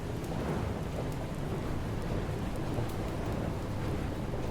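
A thunderstorm in the game FAR: Changing Tides: steady heavy rain hiss with low rolling thunder rumble throughout, dense and continuous with no pauses.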